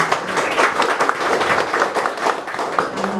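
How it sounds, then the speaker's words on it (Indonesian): A crowd claps steadily in close, dense applause throughout, with some voices audible underneath, at an Indonesian youth program outreach event. "Tepuk tangan untuk kita semua."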